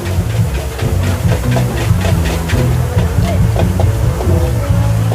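Spicy holy basil (kaphrao) is stir-fried in a wok at a busy Thai street stall that cooks over a hundred pans a day. The metal spatula scrapes and clanks in a steady, rapid rhythm over a constant loud sizzle and hiss.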